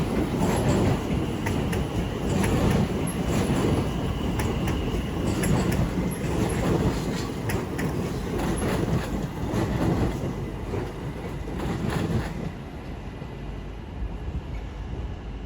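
A pair of class 730 electric multiple units, 730-047 leading with 730-019, moving through London Euston station, giving a steady loud rumble with wheel noise and faint squeal that eases off near the end.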